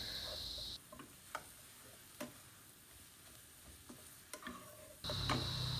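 Leeks and vegetables stirred in a pan for noodles, soft sizzling with scattered scraping clicks of the spoon, faint overall and louder bursts of frying at the start and end.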